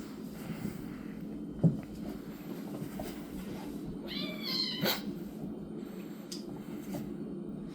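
Two domestic house cats fight indoors, with a sharp thump, then a rising drawn-out yowl and a couple of shorter meows over a low steady background hum.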